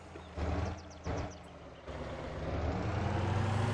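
A heavy truck engine in the MotorTown driving game labours uphill in low gear, a steady loud drone with two brief surges early on, then rising and holding strong.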